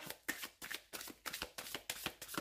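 Oracle cards are shuffled by hand for a divination reading, a run of about eight quick, crisp riffling bursts in a steady rhythm, close and fairly soft.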